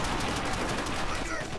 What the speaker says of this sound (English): Shoot through the damn wall.